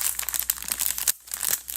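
The foil wrapper of a Topps Dune trading card pack crinkles and crackles as it is torn open by gloved hands, a close, rapid run of rustling with one brief pause.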